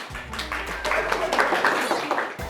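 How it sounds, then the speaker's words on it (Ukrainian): Small group applauding a piece of children's craftwork, a short burst of scattered hand claps rising and then fading, with voices talking underneath. "Оплески е, цій роботі"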